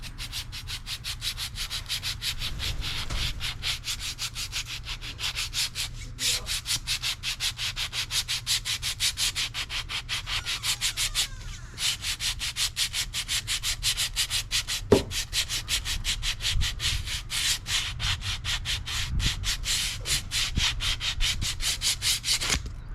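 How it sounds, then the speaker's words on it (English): 320 grit sandpaper is rubbed over a Dodge car fender in fast, steady back-and-forth strokes, a close, even scratching rhythm that runs continuously with only a couple of brief pauses. "get myself some 320 grit sandpaper, and I'm going to sand all this area right here"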